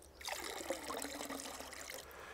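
Grey household wastewater pours steadily out of a treatment tank, a continuous close splashing trickle with no talk.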